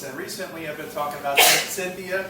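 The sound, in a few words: sneeze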